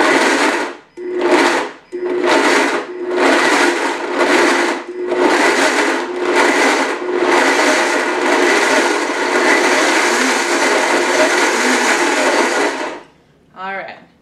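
A blender pulses a vegan chocolate shake with coconut water, about a dozen loud bursts of motor whir with short pauses between them, ending in a brief quiet.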